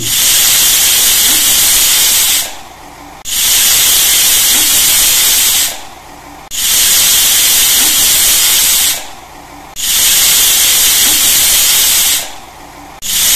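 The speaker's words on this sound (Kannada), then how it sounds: "ಕುಕ್ಕರ್ನಲ್ಲಿ 5 ರಿಂದ 6 ಸೀಟಿ ಹೊಡೆಯಲು ಬಿಡಿ" A pressure cooker vents loud bursts of hissing steam, four long blasts of about two and a half seconds each, separated by short pauses.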